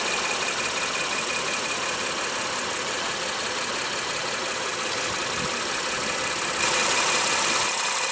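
A 2016 Honda Pilot with a 3.5 L V6 idles steadily, a continuous even engine hum heard close and alone, rising slightly near the end.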